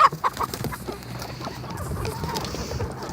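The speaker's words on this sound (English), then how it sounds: "Stupid chickens." Farm chickens cluck close by in a few sharp bursts at the start, then settle into a softer, steady background of fowl sounds.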